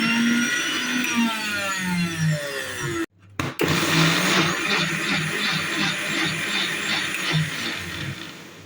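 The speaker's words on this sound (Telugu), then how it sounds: "పుచ్చకాయ లేదా వాటర్ మెలూన్ ముక్కలను ఒక మిక్సీ జార్లోకి తీసుకొని వీటిని మెత్తగా మిక్సీ చేసుకోవాలి." Mixer grinder whirs loudly as it blends watermelon pieces in a jar, motor pitch rising as it spins up, cutting off briefly around the middle, then restarting into a steady close grinding roar.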